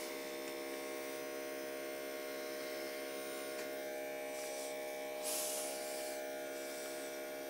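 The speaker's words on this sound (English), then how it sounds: "This is a really powerful air conditioning unit." A Fagor model 6453 air conditioning unit runs with a steady electric hum and buzz, constant and fairly quiet, with a brief airy rush near the end.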